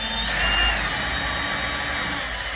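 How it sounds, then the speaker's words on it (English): A power drill whines steadily at close range, its pitch rising slightly as it spins up and bores handle holes through a wooden cabinet door without pause. "here's what I'm talking about as far as, you know, drilling the holes"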